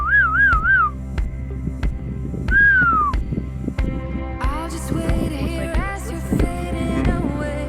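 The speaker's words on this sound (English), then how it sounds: "trying to summon them with her whistle" Aboard a sailboat anchored in Balandra Cove, someone blows a whistle to summon dolphins, producing short warbling and sliding tones in a few bursts over a low throbbing engine hum, with clicks and chirps following.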